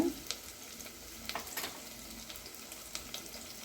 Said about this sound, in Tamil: இப்போ நம்ம நல்லா வதக்கிக்கிறோம் வெங்காயத்தை